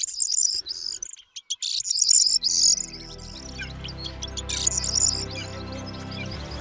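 Small birds such as goldfinches and corn buntings sing in the Marchena countryside, bright twittering chirps in bursts near the start and again midway, over a steady low rumble in the later part.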